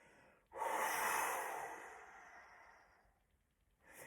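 A forceful breath pushed out during a qigong exercise, one long loud rushing exhale that slowly fades, followed by a short breath at the end.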